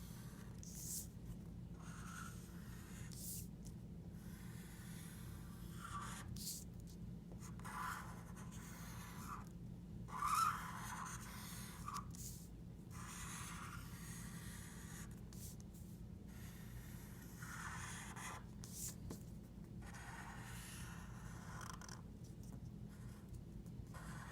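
A pencil traces maze lines on paper, giving quiet, intermittent scratching strokes with short pauses as the sheet is turned, faint and close over a low background hum.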